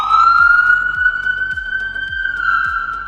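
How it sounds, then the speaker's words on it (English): Loud wailing siren of a Dubai police supercar, a steady high tone cycling with repeated low pulsing blips underneath, close by with no talking. "I'm going to get him again with the siren ready."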